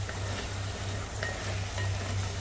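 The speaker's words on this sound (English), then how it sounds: "we'll mix now this onion paste with the garam masala paste which we had prepared" Onion paste and garam masala paste being stirred in a pan for crab masala, a soft continuous sizzle with faint scraping stirs under a low steady hum.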